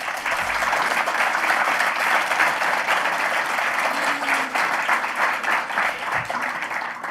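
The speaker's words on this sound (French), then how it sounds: "Je crois que toute cette équipe a bien mérité quelques applaudissements." Audience at an awards ceremony breaks into continuous applause, a dense, even wash of clapping that holds for several seconds with a faint voice or two underneath.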